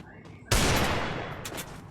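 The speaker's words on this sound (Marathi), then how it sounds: "तर चला आता डिझर्ट गननी मारण्यात आपण प्रयत्न करूयात" Desert Eagle pistol fire in a mobile battle-royale shooter match: one sharp, loud gunshot cracks out near the start and rings into a long dense tail, with a faint voice underneath.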